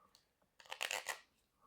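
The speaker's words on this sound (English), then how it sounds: "Just give them a shuffle to infuse them a little bit." A Gilded Tarot deck shuffled by hand in a quiet room: a soft tap, then a short, crisp riffle of cards lasting under a second, close and fairly quiet, with no talking.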